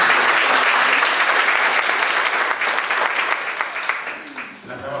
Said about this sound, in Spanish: Así que también recibimos con un aplauso al padre Tomás